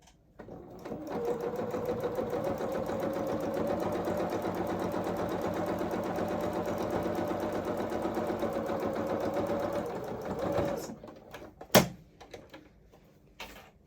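Close and steady, a sewing machine stitches the hems of a doll-sized mechanic's coverall sleeve for about ten seconds, then halts, followed by a single dull knock and light handling sounds.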